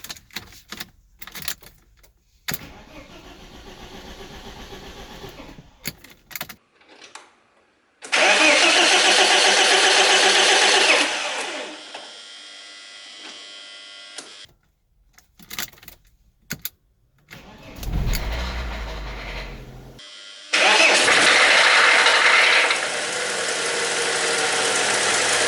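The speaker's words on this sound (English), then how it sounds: "let's try to start the car" A $425 auction-bought BMW Z3 sitting with its key in the ignition: repeated starter cranking bursts and clicks build to a rough engine catching, then the motor runs loudly and unevenly, close by, with no talk.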